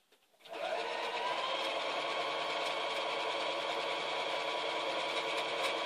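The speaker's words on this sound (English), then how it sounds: "we're going to sew 3 sides of it without using the reverse" A Viking sewing machine starts up and runs without pause, sewing three sides of fabric with a steady, close whirring that stays even for about five seconds.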